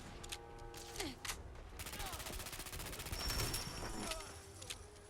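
G3 battle rifle fire in Fallout 4, loud rapid bursts rattling against enemy gunners, with a sustained stretch of fast shots in the middle and scattered game effects around it; someone speaks over parts of it.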